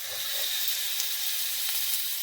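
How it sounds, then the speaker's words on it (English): Lamb pieces sizzle in very hot olive oil in a pan, giving a steady, bright frying hiss that holds evenly throughout, close and fairly loud, with no voices. "when you put the lamb in the pan, you can hear a sizzle."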